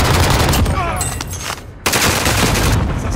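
Dense, sustained gunfire from a video game battle, loud and continuous with overlapping rapid shots, easing briefly before a sharp burst resumes the barrage.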